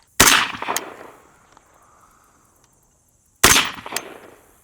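Two sharp, loud rifle shots about three seconds apart, fired outdoors at a range from a rifle fitted with a Votatu RMD 502 red dot sight, each crack trailing off in a brief echo, with near silence between them.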